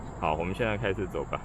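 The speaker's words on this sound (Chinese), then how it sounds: "这里也有很多蝉鸣。" Cicadas drone in steady, high continuous song from dense forest along a trail in Thomson Nature Park, Singapore, running under someone speaking close by.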